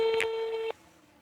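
An outgoing telephone call ringing, one steady electronic ring tone that cuts off sharply, followed by quiet room tone.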